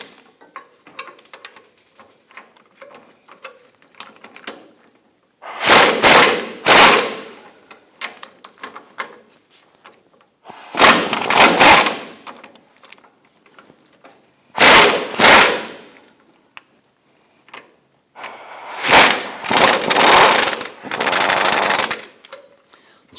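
Power tool spinning nuts off the differential bushing bolts of a 2006-2010 Hummer H3, four loud whirring bursts of a few seconds each separated by quieter gaps.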